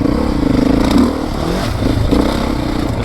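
A 2024 Beta 430RR off-road motorcycle being ridden, its engine revving and clattering steadily up close with surges of throttle, loud and continuous throughout with no talk.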